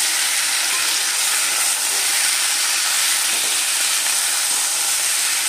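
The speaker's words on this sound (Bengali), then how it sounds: "তো এবার আমি এটাকে নাড়বো।" Vegetables for a chorchori (pointed gourd, ridge gourd, drumstick, potato and a little eggplant) with turmeric are stirred in a hot pan, giving a steady, loud sizzling hiss that continues throughout.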